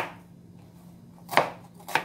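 Onion being chopped with a knife, two distinct close chops against a board after a quiet stretch, with no voices.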